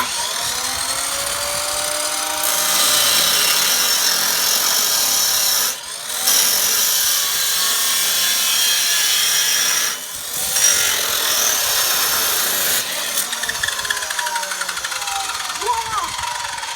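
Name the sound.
saw cutting a 40-inch piece of C-channel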